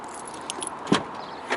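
Car keys jangle in a few brief, close bursts near a lowered car being loaded onto a truck, with a louder clink near the middle and another toward the end.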